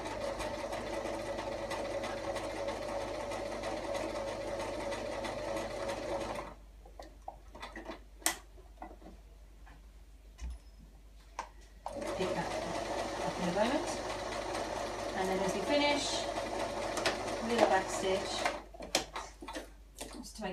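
A sewing machine stitches fabric in steady runs of rapid mechanical chatter, pausing for several seconds before starting again, with a voice talking over the stitching at moments.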